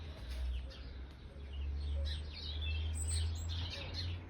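A robin sings in a small woodland garden, with thin high phrases and chirps coming and going against a constant low hum and other distant birdsong.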